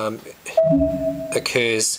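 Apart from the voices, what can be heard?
email notification sound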